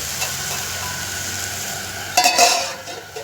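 Soybean curry sizzles gently in a pan while being stirred, a soft steady hiss broken near the end by a short burst of scraping and utensil clatter.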